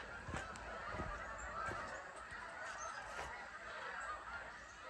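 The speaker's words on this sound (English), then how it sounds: "The geese are gathering." A flock of geese honking repeatedly, overlapping calls against a steady outdoor background, fairly distant.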